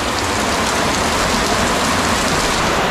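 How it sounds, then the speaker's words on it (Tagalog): Heavy typhoon rain pounding down in Camarines Sur, Philippines: a loud, dense, unbroken roar of downpour on surfaces that never lets up. "Grabe na talaga ang ulan,"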